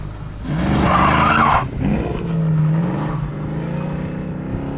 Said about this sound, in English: Those 302s, they sound good.